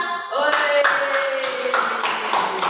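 Rhythmic group clapping in a primary school class, a steady beat of claps over a sustained children's voice.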